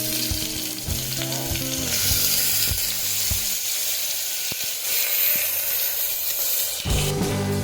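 Onion paste fries in a pan for gongura with boti, giving a steady sizzle with scraping and clinks for the first few seconds, then a quieter hiss with scattered taps before a louder burst near the end.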